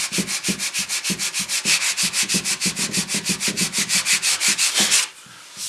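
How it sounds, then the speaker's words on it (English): A sandpaper block rubs back and forth over wood to sand out glue, a steady close rhythmic scraping of about two strokes per second that stops near the end. "sand a little extra of that glue out of there"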